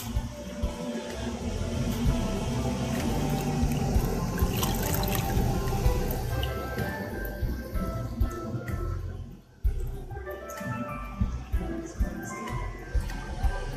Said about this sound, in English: Now, plaster bandages are put into water.